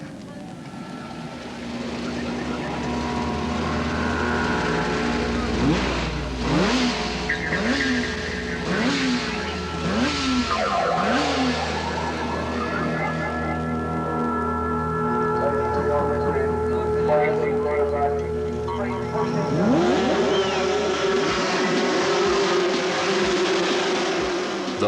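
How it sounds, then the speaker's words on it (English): Australian 500cc Grand Prix racing motorcycles at the 1981 Easter Bathurst races scream past up close. Their engines rise and drop in repeated pitch sweeps as riders shift through the gears, and a second bike revs up near the end. "The last big race of Bathurst 1981, the Australian 500cc Grand Prix."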